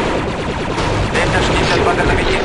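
Plasma blaster gunfire aimed at droids in Star Wars Republic Commando: a dense, loud, continuous stream of rapid shots and crackling impacts, close and unbroken for a couple of seconds.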